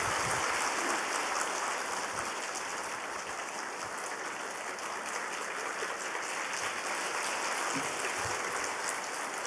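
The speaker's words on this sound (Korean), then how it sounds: "뜨거운 박수로 우리 축하하도록 하겠습니다." Church congregation at a Sunday service applauding, dense sustained clapping filling the room loudly and evenly throughout, with no talk over it.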